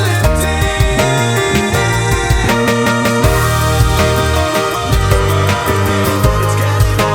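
An indie pop chorus plays loud and full: distorted electric guitars panned hard left and right over drums, bass and other parts in a dense, steady mix.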